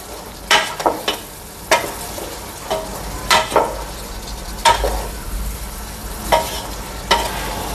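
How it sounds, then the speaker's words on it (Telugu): Spices such as coriander and cumin powder are stirred into coconut milk chicken biryani in a pan, giving a steady sizzle broken by repeated scraping strokes of a spoon, close and fairly loud with no talk. "ఒకసారి బాగా కలుపుకోవాలి."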